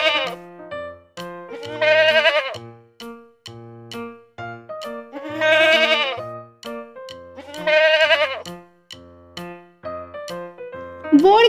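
A young goat kid bleats repeatedly in a series of wavering, nasal cries with short gaps between them, clear and close, some calls longer and louder than others.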